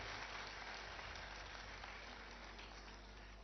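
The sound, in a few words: students applauding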